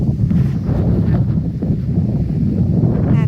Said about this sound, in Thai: วันนี้เป็น วันที่ ลมแรงมาก ค่ะพี่น้องค่ะ